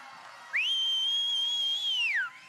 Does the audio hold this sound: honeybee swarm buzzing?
no